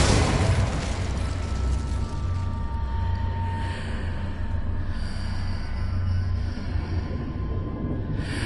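Incendio fire spell cast in a Harry Potter video game, a sustained roaring burst of flame with low rumble and crackle, loud and steady throughout with a brief brighter flare early on.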